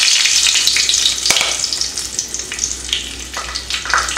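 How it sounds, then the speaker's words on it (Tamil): Fenugreek seeds frying in hot oil alongside curry leaves for a Tamil-style kuzhambu, giving a steady, close sizzle with crackling pops and brief stirring scrapes throughout, with no talking. "கருவேப்பிலையை வறுத்த அதே எண்ணெயில் கொஞ்சம் வெந்தயம் சேர்த்துக்கலாம்."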